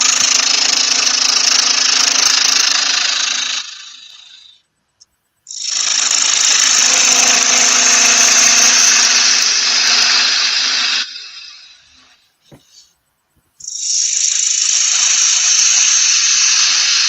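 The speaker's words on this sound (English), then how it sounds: "I'm just going to trim the ends off to make them square." Power saw trimming the ends off firewood logs to square them, three long loud sustained cuts separated by brief pauses, close up with no talking.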